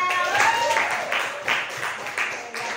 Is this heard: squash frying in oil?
no